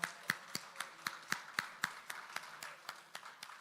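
At a fisheries fundraiser at the Hilton Barbados Resort, faint, distant applause sounds as a quick, regular series of claps rising over a soft room murmur.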